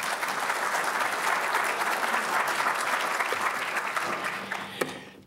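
A seated audience gives steady, dense applause to welcome economist Jim Glassman at a lecture, holding loud and even for about five seconds before tapering off, with a single sharp clap near the end.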